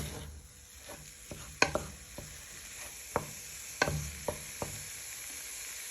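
A wooden spoon stirs a BBQ bean casserole in a pan, making soft scraping and a series of sharp clicks and taps against the pan over a faint, steady sizzle.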